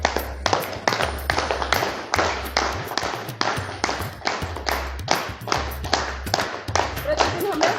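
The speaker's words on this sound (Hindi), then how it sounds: "ताली जब हम बजाते हैं ना" Rhythmic hand clapping during a yoga session, with sharp, steady claps at roughly a couple per second continuing through, close and distinct, accompanied by light thumps.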